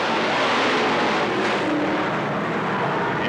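Race cars accelerating together on a restart at Riverside Speedway (Cottage Grove Speedway), a dense steady engine roar filling the whole stretch, loud and continuous with no talk.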